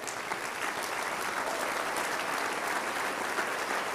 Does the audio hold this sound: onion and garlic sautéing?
no